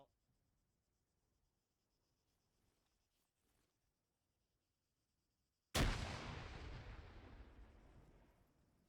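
A hand grenade explodes during army basic training, a single sudden loud blast after near silence, followed by a long rumbling decay that fades over several seconds.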